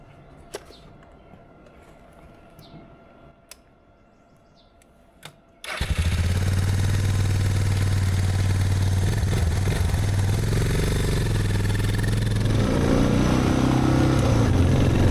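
A motorcycle engine bursts to life after a quiet stretch with faint clicks and bumps, then runs loud and steady with a rough, buzzing drone for the rest of the ride.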